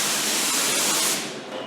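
Low-pressure paint spray gun laying ceramic chassis black on a Bronco frame, a close continuous hissing spray that tapers off at the end.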